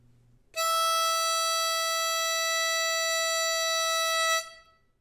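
A single sustained harmonica note blown on hole five rings out clean and close, starting abruptly after a moment of quiet, holding steady for about four seconds, then fading.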